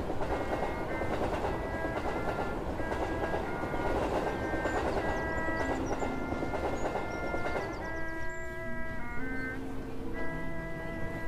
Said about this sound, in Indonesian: Kereta api penuh sesak, berangkat menuju Tanjung Priok.